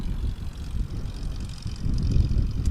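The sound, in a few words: STOL aircraft landing on big fat tires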